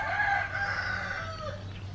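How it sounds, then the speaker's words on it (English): Roosters crowing in Thailand, a loud, close, drawn-out crow with overlapping calls over a low background hum, no talk. "3 roosters."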